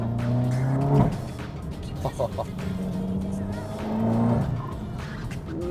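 A Seat Leon Cupra Stage 2 accelerates and revs through a run of hairpin bends, engine pitch climbing and dropping between corners with brief tyre noise, heard from inside the car with people talking over it.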